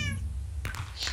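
A short cat meow from the Minecraft video game, heard once near the start of the moment before a brief thump and some faint background game noise, with no talking over it.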